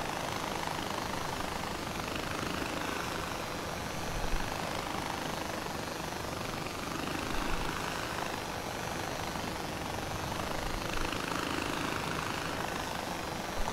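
A helicopter flies in the video game Far Cry 4, giving a steady, loud, broadband rotor and engine drone that continues unbroken with small swells and no talking.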